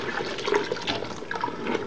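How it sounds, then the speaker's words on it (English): Chicken broth poured into a thick Nigerian stewed-meat (obe ata) sauce, a steady close liquid splashing and gurgling pour lasting about two seconds, with no talking. "I'm going to pour the chicken broth inside the sauce just to like thin it out"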